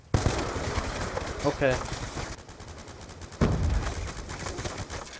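Rapid video game gunfire from a ten-round weapon, sharp repeated shots crackling through the clip with a brief lull in the middle, loud and close, under a short spoken word.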